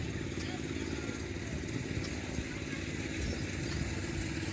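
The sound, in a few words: lawnmower-motorcycle hybrid engine running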